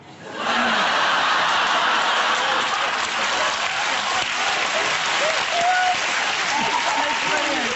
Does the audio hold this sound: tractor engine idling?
no